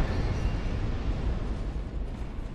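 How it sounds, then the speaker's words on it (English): A fire trap in Dark Souls 2 erupts in a sustained, loud low roar of rushing flame that holds steady for a few seconds, dense and rumbling with no voices over it. "Thought I could get him in the fire trap."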